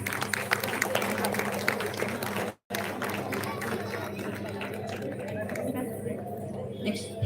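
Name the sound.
audience applause for a child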